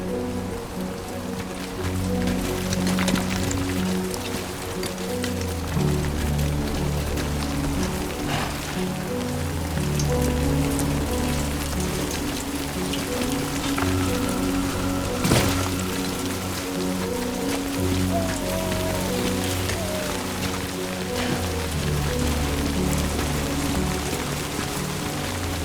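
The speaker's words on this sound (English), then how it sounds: "Rain. Gotta move." Steady rain pattering across surfaces in the video game Death Stranding 2, a continuous wash of drops under a low musical drone, with no talking.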